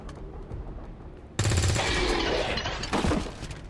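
Gunfire in the XCOM 2 video game, a sudden loud sustained burst of shots with crackling impacts cutting in over quiet game ambience and lasting a couple of seconds.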